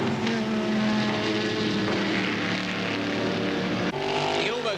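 V8 race cars thunder down the straight at Eastern Creek with a loud, sustained engine roar. The roar swells, then shifts with a pass near the end and never lets up.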